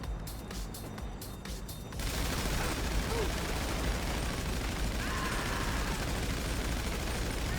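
Gunfire in GTA V Online: after a short stretch of rhythmic pulses, a dense, continuous barrage of shots fills the rest of the clip at steady loudness.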